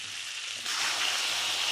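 Meat pieces dropped into a hot pan for a mutton curry set off a sudden broad hiss, a steady close sizzle after a quieter start.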